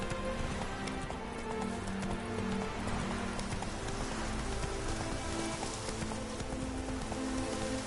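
Horse Roach trotting in The Witcher video game, a steady clip-clop of hooves under a soft wash of rain, close and even throughout.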